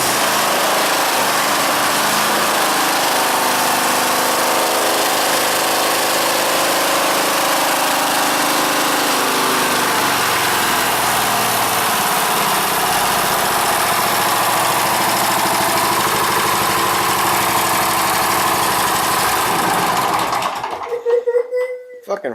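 A tractor engine runs steadily with a loud, continuous mechanical drone for about twenty seconds after a choked start, then cuts off abruptly near the end, with talking mixed in.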